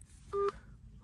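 A phone line beeps once as a call ends, a short, clear electronic tone standing alone over faint background noise.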